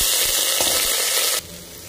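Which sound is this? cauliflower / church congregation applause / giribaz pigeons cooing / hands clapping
cauliflower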